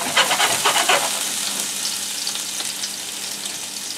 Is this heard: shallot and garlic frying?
yes